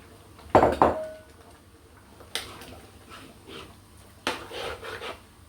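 A spoon clatters against a cooking pot as spring onion and butter are pushed down into Jamaican stew peas, giving a few separate clinks and scrapes spaced over several seconds, fairly close and with no talk.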